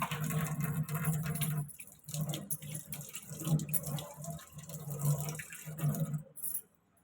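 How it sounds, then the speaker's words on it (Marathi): Running water from a kitchen tap as hands are washed under it, a steady rushing stream broken by brief changes in the flow, then cutting off near the end. "थोडंसं मी हात धुवून घेतो"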